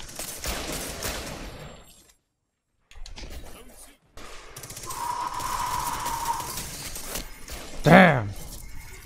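Scout rifle hip fire in the video game Destiny 2, a sharp loud gunshot burst near the end that rings out over game sounds and a steady tone, after earlier muffled action and a brief dropout.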